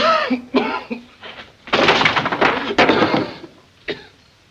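A man coughs repeatedly in harsh, rasping bursts, with a longer fit of hacking in the middle and a final short cough, close and fairly loud.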